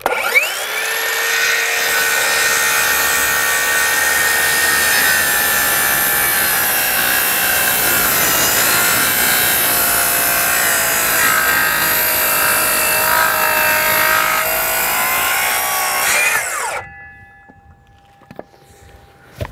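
A hand saw with a new, thin blade cuts steadily through timber for a hip rafter, a loud continuous rasping stroke close up for about sixteen seconds before stopping abruptly into near quiet.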